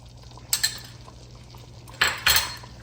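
A spoon knocks and scrapes against a metal pot while tamarind puree is stirred into cooked dal, with a few distinct clinks in two short bursts over low background hum.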